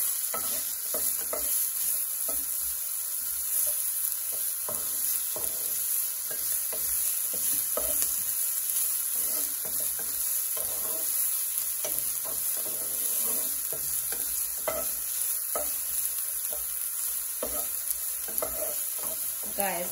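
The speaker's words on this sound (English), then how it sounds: "You want to fry your onions till they're nice and translucent." Onions sauteing over low to medium heat in a pan for shrimp and lobster fried rice, a steady sizzle running the whole time with repeated scraping clicks of stirring, close and alone with no talking.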